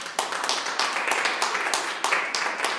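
A church congregation claps loudly and rhythmically in unison, sharp regular beats repeating close by for the whole stretch, with no talk over them.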